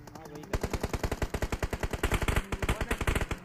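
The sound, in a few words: gunfire in a battle royale video game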